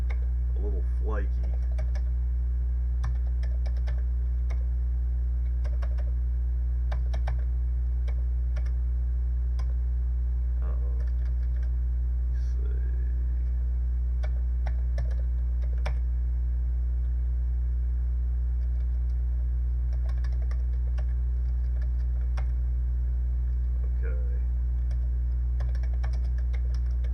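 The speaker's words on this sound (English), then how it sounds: "Keyboard's kind of sticky." Sporadic key presses on a Commodore 64 keyboard, soft scattered clicks and taps over a steady electrical hum, quiet and close with brief voice sounds between them.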